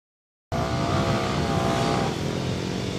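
Motorcycle on Dunlop TT900GP bias-ply tyres running a time attack course, engine suddenly loud and close with a sustained high rev that drops in pitch after a gear change.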